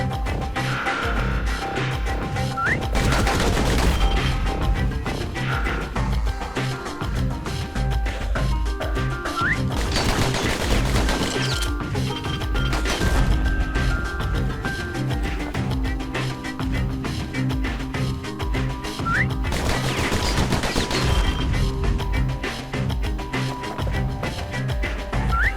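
Bursts of rapid pistol fire from customized pistols in the video game Bastion, loud clustered volleys recurring every several seconds over a steady game soundtrack.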